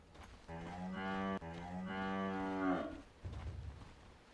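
A cow mooing sound effect plays in the video game Dota 2 during a professional match. One long, loud, drawn-out moo has a brief break near the start and sweeps up before fading, followed by a low rumble, with no talking over it.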